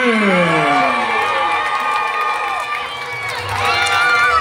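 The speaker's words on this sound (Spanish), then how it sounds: "Aplauso para Vampiro Canadiense." Crowd at a Mexican lucha libre wrestling event cheering and whooping loudly for the Canadian-born wrestler Vampiro Canadiense, a dense, steady roar with shouts rising above it throughout.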